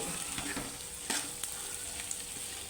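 Spices sizzle and crackle steadily in hot oil, with a few sharp pops and the scrape of stirring.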